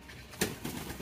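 King pigeons at a pigeon farm, one soft brief coo rising out of faint background noise in a quiet, close setting.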